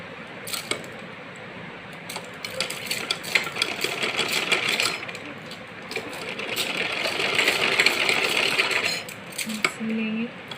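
Sewing machine stitching folded fabric during a home tailoring session, running in bursts of rapid mechanical whirring with short pauses, close by, while someone talks over and between the runs.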